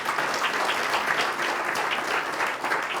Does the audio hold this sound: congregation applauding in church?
yes